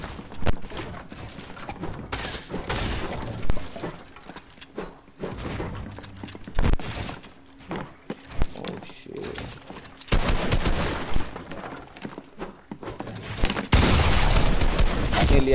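Gunfire in the video game Fortnite: loud, rapid bursts of shots crackle close by, with busy game noise and a few clipped heavy blasts near the end.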